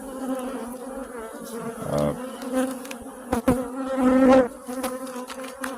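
A honeybee colony afflicted with varroa buzzes steadily and densely during a hive inspection, with close passing bees droning louder at moments and occasional knocks from frame handling.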